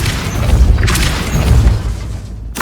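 A Depulso force spell blasts in the Hogwarts Legacy video game: a loud, deep booming burst with crashing, shattering layers rolling through, swelling twice before a sharp final hit near the end.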